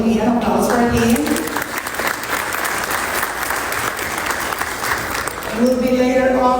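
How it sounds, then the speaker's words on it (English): Applause for Jamaica's Minister of Agriculture at an official inauguration ceremony, a steady crowd clapping that swells for about six seconds between brief bits of speech at the start and end. "An applause for him."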